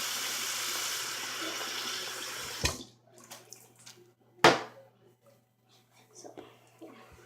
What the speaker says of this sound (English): you're gonna want to wash your